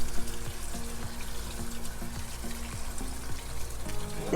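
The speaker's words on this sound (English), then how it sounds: "Run the cold water on it just to rinse it." Cold tap water runs steadily into a pot of pepper being rinsed in the kitchen, a close, even splashing stream with gurgling water in the sink.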